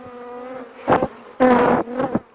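Honey bees from a strong colony buzz loudly right at the microphone during a hive inspection, a steady drone broken by sharper bursts as bees fly close.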